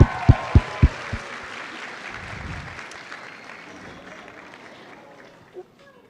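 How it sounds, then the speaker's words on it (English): An audience applauds at a cosplay contest at the Indiana Comic Convention, a steady wash of crowd clapping after a few sharp thumps at the start that slowly fades, with voices faintly in the mix. "Let's give her a round of applause."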